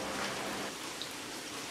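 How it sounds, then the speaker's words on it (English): Steady August rain falling all morning, a dense even hiss of drops on surfaces throughout with no voices. "we're getting one of them very rare August rains. Been raining all morning."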